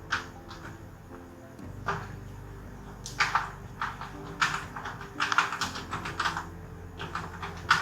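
Someone types a query on a computer keyboard in quick irregular bursts of close, crisp key clicks with short pauses between them, heard alone without speech.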